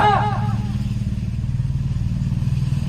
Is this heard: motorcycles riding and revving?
yes